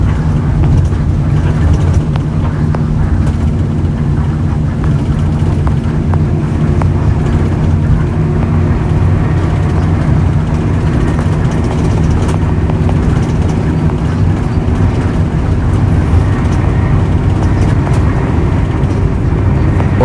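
A Kupu Kupu Ayu intercity bus speeds along the road between Purwokerto and Pulogebang, heard from inside as a loud, unbroken engine drone and tire rumble with steady road noise and no voices.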